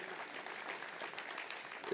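An audience applauds softly and continuously at a science and education conference, the clapping faint and distant.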